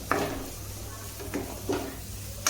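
A spoon scrapes and stirs ground coriander, cumin powder and fresh coriander leaves in a pan for aloo paratha filling, giving a few short scraping strokes over a low steady hum.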